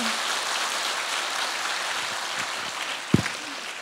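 Light, scattered applause of encouragement from a small studio audience, a soft steady patter with one sharper knock near the end.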